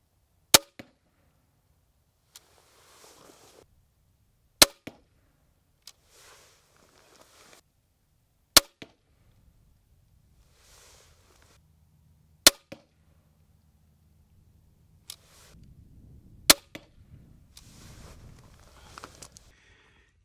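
TenPoint Havoc crossbow bolts strike a target block outdoors, with five sharp, loud impacts spaced about four seconds apart and faint handling noise and rustling between shots.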